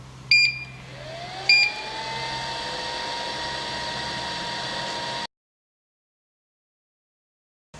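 A 3D heat press machine set to 200 degrees starts up with two sharp electronic beeps, then a steady broadband fan-like whir with a rising tone that runs for several seconds before cutting off abruptly.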